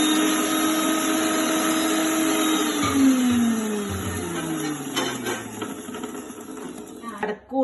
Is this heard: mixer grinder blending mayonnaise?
yes